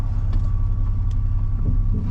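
Steady low engine rumble of a Chevrolet S10 pickup truck driving after an axle swap with disc brakes and a locker, a continuous close drone with no talking.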